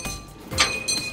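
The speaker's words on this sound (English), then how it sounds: "that's the train bell to alert people that we're crossing." A train crossing bell rings along a city route in a children's show, giving a few short metallic dings that stand out clearly with no talk over them.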